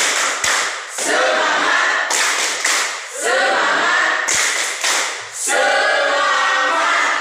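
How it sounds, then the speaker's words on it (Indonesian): A classroom group performs a 'tepuk semangat' cheer, clapping in rhythmic bursts with shouted chanting, pausing between rounds and starting again, loud and close. "tepuk semangat"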